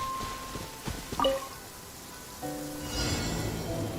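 Rain falling in Genshin Impact, a soft pattering wash with scattered drips, fairly quiet, with brief chimes and game tones rising over it partway through.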